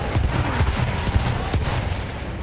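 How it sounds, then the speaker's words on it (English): An artillery strike in the Battlefield 1 Rush game mode, a dense wall of loud rumbling blasts and rapid gunfire packed together in a short, continuous burst. "And there's another artillery strike."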